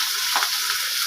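Garlic cloves, eight to twelve pieces, added to hot oil with chillies for a Kerala-style egg malai masala, sizzling in a steady loud hiss with a brief stir near the start.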